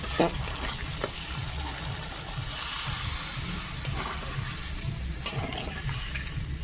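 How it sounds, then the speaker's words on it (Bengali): Water poured onto fried spice paste in a pan for a vegetarian curry, a rushing hiss and bubbling sizzle that holds steady with a few utensil taps, close up and without speech. "মশলা কষানো হয়ে গেছে জল দিয়ে দেবো"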